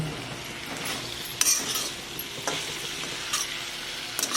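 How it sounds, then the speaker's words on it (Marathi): Tawa pulao with Schezwan chutney is sautéed on a tawa, a steady close sizzle broken by several sharp clinks of a metal spatula against the pan. "दोन चमचे शिजवान चटणी घालू पुतो घालू याला आता छान परतून घेऊ"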